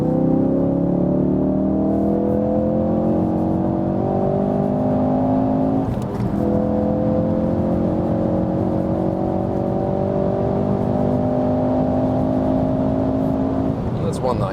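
A 350 hp Ford Focus RS accelerates hard in third gear from about 80 on the Autobahn, its engine note rising steadily and loudly inside the cabin, with a brief dip around a gear change.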